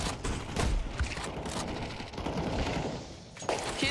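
Counter Strike 2 gunfire crackles in fairly faint bursts, with several quick shots and a short rattling volley spread across a few seconds of game noise.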